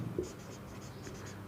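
Marker or chalk scratches across a board in short strokes during a chemistry lecture, faint and close against a low room hum, with no voice.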